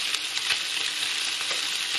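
Eggs fry in a small amount of oil in a pan, giving a steady, close crackling sizzle with scattered pops and no voices.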